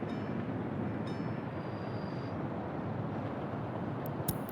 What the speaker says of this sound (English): What's that train?